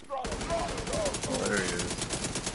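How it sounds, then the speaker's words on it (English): Rapid popping bursts of ammunition cooking off after a backpack is blown up in a video game, a dense continuous rattle of gunfire that stays loud and close throughout, with a voice murmuring underneath. "I blew up his backpack and all the bullets went flying"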